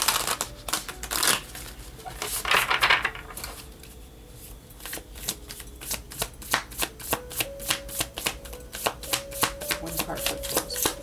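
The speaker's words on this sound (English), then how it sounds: "That was a bad shuffle." Sacred Destiny Oracle cards are shuffled by hand up close during a tarot reading, starting with soft sliding and riffling, then settling into a run of crisp, evenly spaced card flicks.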